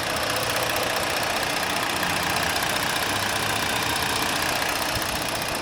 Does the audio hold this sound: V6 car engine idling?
yes